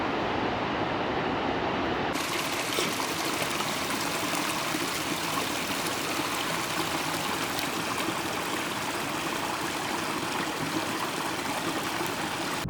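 Steady, loud rush of a river flowing beside a hiking trail, a continuous broadband wash of water that runs unbroken from start to finish with no voices over it.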